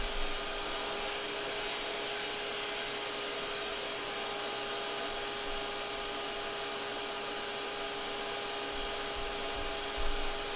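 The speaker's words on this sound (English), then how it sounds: "I just pretty much just hold my finger right against the vacuum and suck them right up" A vacuum drones steadily and loudly at close range while sucking yellow jackets out of a wasp nest in a closet ceiling, a continuous even whine with faint bumps near the end.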